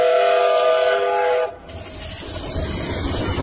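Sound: red Thomas toy train running

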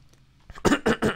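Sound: cough

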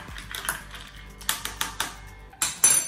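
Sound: mixing a fruit juice and seltzer drink

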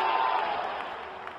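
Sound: cricket crowd cheering after a six

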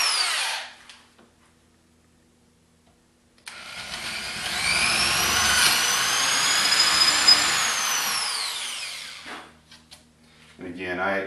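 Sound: electric drill drilling a hole

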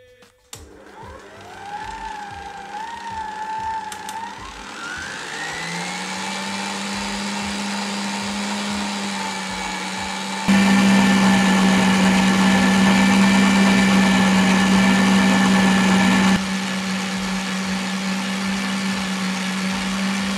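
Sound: mixer whipping cream

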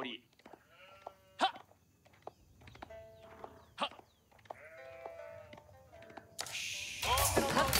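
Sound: sheep bleating in Age of Empires 4 video game

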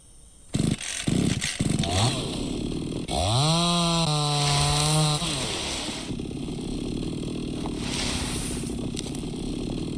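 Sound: chainsaw running in Mist Survival video game

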